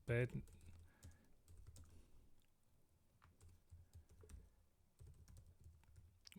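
Clicks of a computer keyboard being typed on, including an Enter key press, come as soft, scattered, fairly quiet taps against low background hum.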